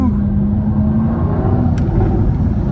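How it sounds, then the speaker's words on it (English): Loud 2022 Jaguar F-Type R engine and exhaust droning steadily throughout, with a rough, crackling texture and a brief sharper burst late on, recorded from inside the car during a test drive. "Those crackles and pops are just something else."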